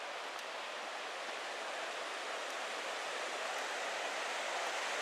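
River in Johnston Canyon, Banff, rushing steadily as a dense, continuous roar of white water, close and loud with no talk over it.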